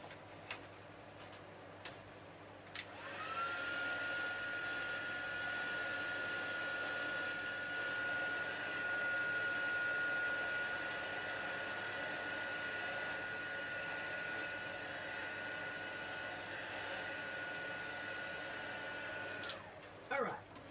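A heat embossing tool blows hot air over a card, a steady moderate whirring hum that runs continuously for about sixteen seconds after a couple of clicks, then switches off.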